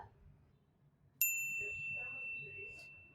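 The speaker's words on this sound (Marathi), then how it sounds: "मला एक नोटिफिकेशन आलंय" A phone notification rings out as a single bright, clear chime that hangs briefly, cutting into an otherwise quiet room with a faint low murmur behind it.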